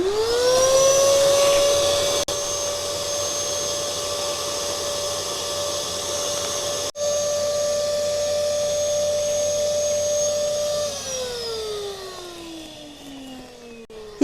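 A small electric pump draws water out of a shallow garden pond, humming with a steady whine that holds level for several seconds before winding down toward the end.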